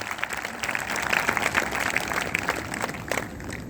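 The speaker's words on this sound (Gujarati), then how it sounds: "તાળીઓ પાડીને પરમેશ્વરને ધન્યવાદ કરીએ." A church congregation claps together in thanksgiving, a dense patter of many hands that carries steadily on at a moderate distance with no voices over it.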